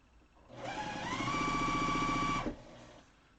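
A sewing machine runs a short, steady burst of stitching as half square triangles are sewn onto a quilt block, its close motor whir rising quickly, holding for about two seconds, then stopping.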